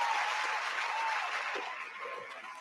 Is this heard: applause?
yes